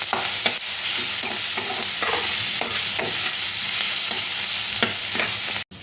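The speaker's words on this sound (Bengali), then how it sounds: "একটু সোয়াবিনগুলো ভাজা ভাজা করে নেব" Boiled soybeans stirred and fried in a pan for veg noodles, a continuous close sizzle with repeated scraping stirs at a steady rhythm.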